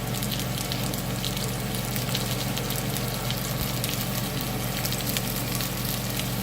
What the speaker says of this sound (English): So almost around 15 small shallots I have peeled and added.